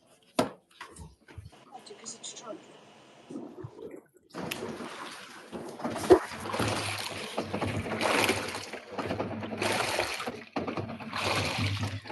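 A WaveForce device agitates water, starting quietly and then becoming a steady, loud broadband churning and sloshing that continues with voices over it.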